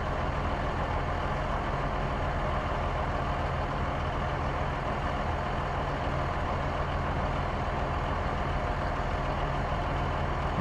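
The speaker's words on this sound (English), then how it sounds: "Car transporter." Car transporter truck, a heavy diesel rumble droning steadily and loudly throughout with no breaks, dense low engine noise filling the whole stretch.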